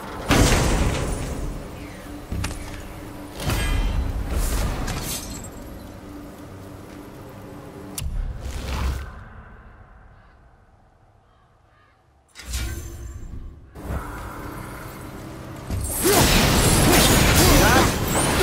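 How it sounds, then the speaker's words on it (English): Fire from the Blades of Chaos burning away hell's bramble in Helheim in God of War, bursts of crackling whooshing flame and combat clatter, then a near-silent lull before loud fiery roaring resumes; a voice speaks at points. "Use the fire of your blades to burn away that hell's bramble blocking the path"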